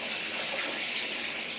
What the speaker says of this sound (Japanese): シャワー出していただくとね、まあこんな感じで